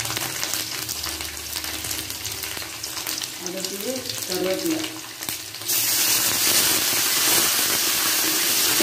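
Chana dal and urad dal fry in hot oil in a rustic village kitchen, a steady close sizzle with soft stirring scrapes midway, then a louder, brighter hiss as the frying intensifies toward the end; no talking.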